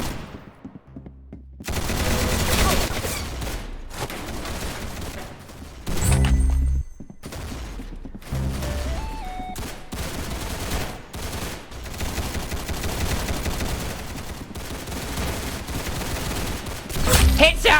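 Video game gunfire in a shooter match, bursts of shots and rapid automatic fire running nearly continuously with brief gaps, fairly loud and dense, mixed with game music and effects.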